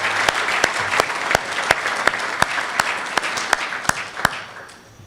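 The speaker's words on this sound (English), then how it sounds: "Let's have another round of applause for our volunteers." Applause rolls through the crowd at a university graduation ceremony, dense and sustained, with sharp individual claps standing out before it fades toward the end.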